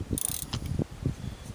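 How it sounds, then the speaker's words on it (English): A ratchet clicks in short, uneven bursts while tightening a BMW spark plug, close and fairly quiet, with a few sharp metallic ticks spaced through the moment. "now tighten up gently again"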